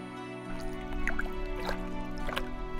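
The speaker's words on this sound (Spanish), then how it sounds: "Siguió sacando más y más agua del pozo, hasta que todos los camellos terminaron de beber." Water drips from a bucket drawn out of a well for thirsty camels, a few soft splashy drops scattered over steady background music in an animated scripture lesson.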